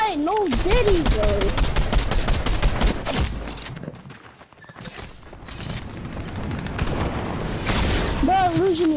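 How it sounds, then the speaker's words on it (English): Rapid automatic gunfire in a shooter video game: dense bursts of shots crackle loudly and close, ease off briefly midway, then resume, with a player's voice talking over the action. "Why is they shooting me from the behind?"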